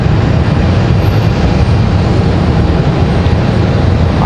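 A Sun Country airliner in its old livery comes down to land at Raleigh-Durham airport, a steady loud broadband roar of engines and rushing air held throughout with no talk.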